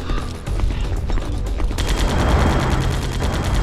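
Gunfire rattles in Metal Gear Solid: The Twin Snakes, a dense burst of rapid shots that grows heavier partway through and continues steadily to the end, loud and without talk.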